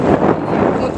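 Strong wind buffets the microphone at a beach, a rough, rumbling gust that fills the short moment with no clear voice.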